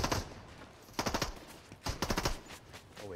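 Gunfire in the Fortnite Battle Royale video game, three separate bursts of rapid sharp shots in quick succession, loud and close, with a low background hum between them.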